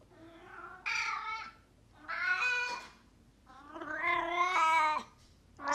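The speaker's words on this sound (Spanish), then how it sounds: "al de los maullidos de gatos cuando están en celo" Cats in heat yowl in long drawn-out wailing meows, three separate rising and falling cries with pauses between, close and loud, no talk.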